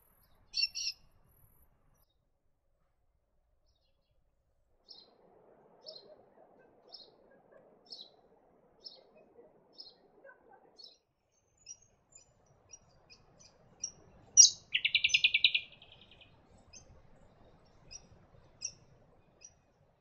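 Brown honeyeater calling around a town in Townsville: a run of short, high, evenly spaced chirps, then a loud burst of rapid bright notes mid-clip, followed by more scattered chirps, with no talk.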